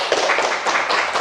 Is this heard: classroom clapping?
yes